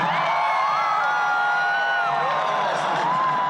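A huge outdoor crowd at Barack Obama's 2009 presidential inauguration cheers, whoops and shouts in a sustained, loud roar, with individual voices rising and falling above the wash of noise.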